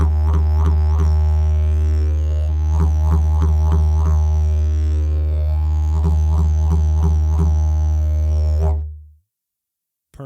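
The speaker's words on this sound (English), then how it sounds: "we're going to add those T's in there like ta, ta, ta, ta, ta, just like this." A didgeridoo holds a deep, steady drone while rapid "ta" tongue strokes add repeated rhythmic pulses on top, close and loud, before the sound stops abruptly near the end.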